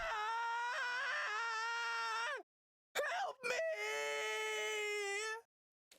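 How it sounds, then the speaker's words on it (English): Someone screams in the video game The Hundred Line: Last Defense Academy, two long sustained high-pitched wails separated by a brief harsh burst, loud and close. "That was someone screaming, wasn't it?"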